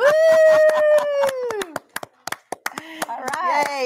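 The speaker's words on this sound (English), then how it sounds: "everybody's clapping in the store for you" Scattered hand claps ring out in a store, sparse and uneven sharp slaps mixed with sung or drawn-out cheering voices and speech around them.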